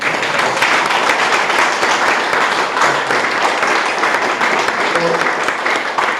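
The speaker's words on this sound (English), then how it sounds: "So let's give them a bigger round of applause." Sustained applause from a town hall audience at a housing advocacy event, a dense wash of clapping holding steady for several seconds with a few voices murmuring underneath.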